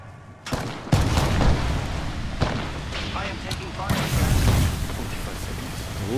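Gunfire and explosions from the Apex Legends video game, loud sharp blasts followed by sustained heavy shooting and booms, a fierce firefight close by under game noise.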